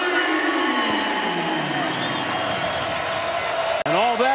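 A large basketball arena crowd at a Texas Tech versus West Virginia game roars loudly and continuously after back-to-back three-pointers, a dense sustained cheer with whistles and shouts, briefly broken by a sharp thump near the end.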